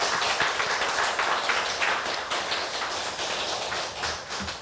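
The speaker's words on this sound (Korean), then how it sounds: "주관해 주시는 참 어머니께 힘찬 응원의 박수 보내드리도록 하겠습니다" A church rally audience applauds: a dense, steady wash of many hands clapping fills the hall, fairly loud and sustained, with no voices.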